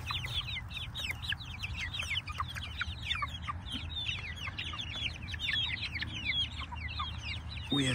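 Cornish Cross and Freedom Ranger chickens on a homestead keep up a steady chorus of overlapping clucks and chirps, moderately distant, with a low rumble underneath.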